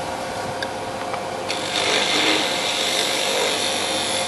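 Wood being turned into a sphere on a lathe, a steady whirring rumble with light clicks, the cutting tool biting in and growing a bit louder and rougher after the first second and a half.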